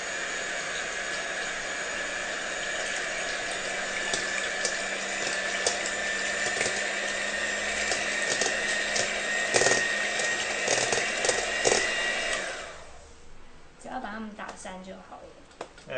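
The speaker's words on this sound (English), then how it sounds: "Okay, so we have a little hand mixer there." A small electric hand mixer beats brownie batter with a steady motor whir for about twelve seconds, then cuts off, leaving faint clatter and voices in the background.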